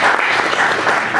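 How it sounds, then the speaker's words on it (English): An audience claps steadily in dense, continuous applause at a career event, loud and close, with no pauses and no talking over it. "give yourselves a round of applause"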